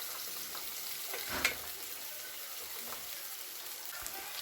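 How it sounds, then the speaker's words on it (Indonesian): Garlic, onion and tomato sautéing in a pan, a steady, close sizzle and hiss that runs throughout, with a light knock of stirring near the middle. "bawang putih, terus bawang bombay dan juga tomat aku tumis sampai dengan matang"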